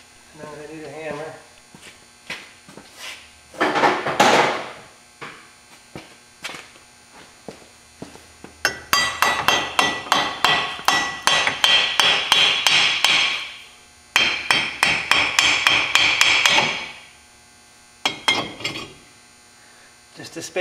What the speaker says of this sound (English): Now I need a hammer.